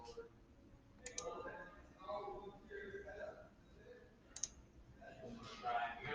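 Computer mouse clicks, two sharp distinct clicks a few seconds apart, heard under a man's continuous speech in a quiet room.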